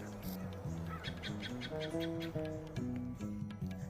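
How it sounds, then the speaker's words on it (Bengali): Many birds call in a tall pine forest near Sittong, overlapping chirps and whistled notes repeating from middle distance at a moderate level. "অনেক পাখির ডাক"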